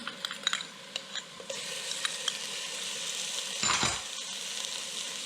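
Onions, garlic and ginger saute in a pan with a steady near sizzle, a few light metallic clinks of stirring early on, and a brief louder burst of frying near the end, with no talk.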